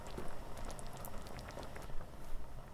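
Tomato sauce with fresh basil stirred in, left to simmer in a pot: a quiet, steady bubbling with soft irregular pops and patter, fairly close, with no voices over it.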